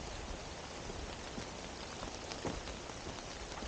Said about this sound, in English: If the rain tapers off, you know, can't hurt to try.